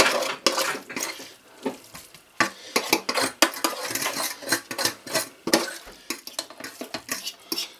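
Rapid clattering of metal utensils against a saucepan as meat is put in, with repeated sharp clinks and scrapes, close and fairly loud, no talking.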